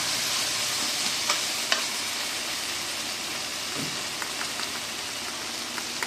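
Ginger garlic paste stirred and frying in a pan for a ridge gourd egg gravy: a steady, close sizzle runs throughout, broken by a few sharp stirring scrapes and clicks.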